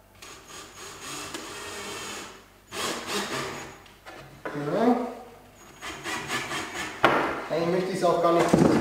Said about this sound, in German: wir schrauben das zuerst sogar rein. Da bohren wir jetzt mal nicht vor.